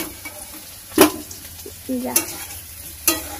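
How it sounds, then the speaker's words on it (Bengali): Potatoes and green plantain fry in hot oil in a pan in a village kitchen, a low steady sizzle broken by a few sharp scrapes and clatters of a metal spatula, with brief speech. "এই আলুগুলো ভালো করে ভাজা ভেজে নিই"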